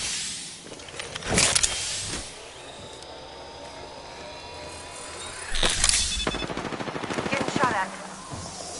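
Bursts of automatic gunfire in Apex Legends, one rapid volley early and a longer rattling stretch later, loud and close amid game noise and mechanical clicks.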